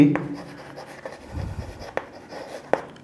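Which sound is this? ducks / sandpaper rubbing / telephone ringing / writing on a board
writing on a board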